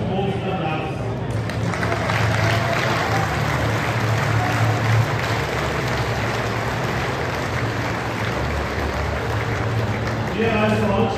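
Sustained, dense applause from a large crowd at a European cattle championship show in Imst, Austria, rolling steadily for over ten seconds, with a voice speaking at the start and end.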